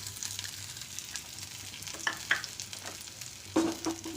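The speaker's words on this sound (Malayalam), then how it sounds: "ഇനി നമുക്ക് ഇഞ്ചി വെളുത്തുള്ളി ചതച്ചത് ഇട്ട് കൊടുക്കാം." Crushed ginger and garlic hitting hot oil while cooking lasooni palak, a low steady sizzle with several sharp clinks and scrapes of a stirring spoon against the pan, moderately close and without speech.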